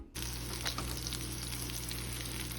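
Salmon croquettes sizzle in a frying pan with a steady, loud crackle of hot oil that starts abruptly and continues close up without talk.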